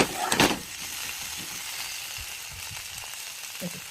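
Vegetables fry and sizzle in a pan as they are stirred, a bright stirring scrape at the start, then a soft steady hiss with faint clinks.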